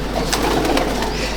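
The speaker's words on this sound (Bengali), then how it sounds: "এটা আর এক জোড়া পায়রা" A pair of Chotial Madrasi pigeons cooing, a continuous low burbling coo close by, with faint rustling over the top for the whole short stretch.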